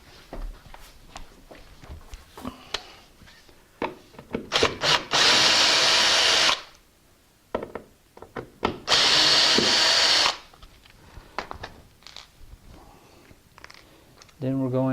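A cordless drill removes the screws of a door strike plate in two sustained bursts, with clicks, handling knocks and brief talk around them.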